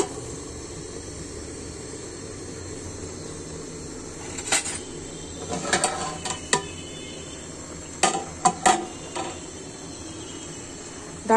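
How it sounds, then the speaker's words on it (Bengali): A lid comes off a cooking pot of taro stolon curry with several light metallic clinks and scrapes, close and fairly quiet, over a steady background hum. "ঢাকনাটা তুলে নিয়েছি।"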